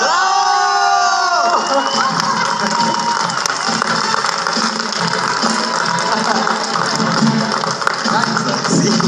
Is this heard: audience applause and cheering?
yes